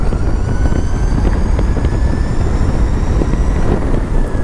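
A Brisk EV Origin Pro electric scooter accelerates at full throttle on a long straight road, a steady loud rush of wind and road noise with a faint rising motor whine throughout.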